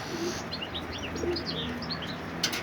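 Homing pigeons entering their loft, soft cooing and a few chirps close by over steady background hiss, with a faint flutter of wings near the end.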